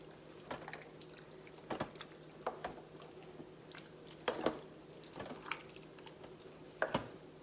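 Chili being stirred in a crock pot, a spoon scraping and knocking at intervals against the pot with soft wet sloshing between, close and fairly quiet.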